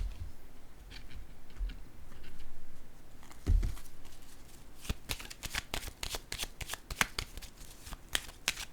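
A tarot card is handled and laid down in a quiet room: soft shuffling and rubbing, then a series of crisp, close clicks and slaps as cards are flicked and set on a surface, with no talking.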